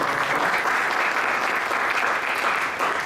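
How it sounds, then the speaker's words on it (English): Steady, dense applause from a seminar audience on tax issues welcoming a speaker to the stage, loud and continuous throughout with no talk over it. "I request all of you to please welcome him with a warm applause."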